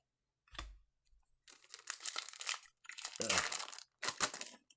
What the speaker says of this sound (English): So these packs all seem to be pretty easy to open.